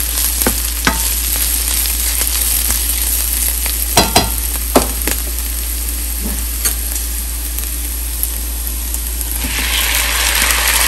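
Tomato added to frying drumsticks in a pan, a loud steady sizzle over a low constant hum, with sharp stirring clacks scattered throughout and a brief hiss surge near the end, no talking.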